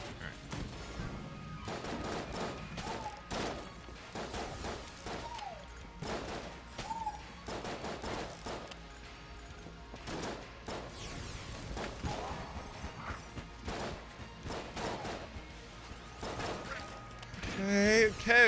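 Magnum gunfire in Enter the Gungeon lands as repeated sharp shots with impacts and crashes in an irregular rhythm. It sits under frequent talk from a player, at moderate level, with a louder burst near the end.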